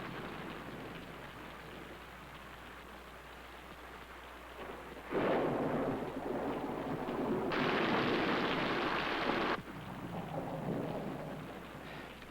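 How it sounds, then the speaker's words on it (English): Steady rain hisses in the background, then heavy rumbling thunder rolls in and swells for several seconds before fading back to rainfall. "Is that rain?"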